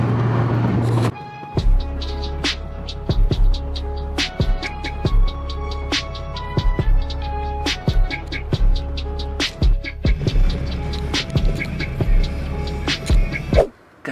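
Car driving on the way to a junkyard, a steady low engine hum broken by frequent clicks and bumps, with a few faint tonal beeps over the drone.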